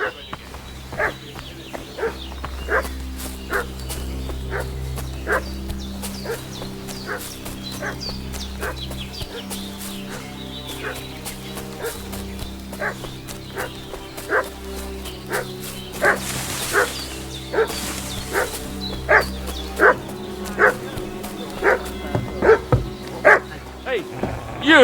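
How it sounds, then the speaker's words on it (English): Dog barking in the medieval role-playing game Kingdom Come: Deliverance 2, a steady run of sharp repeated barks at mid distance, layered over game music and ambience with a voice talking at times. "What's that dog making such a fuss about?"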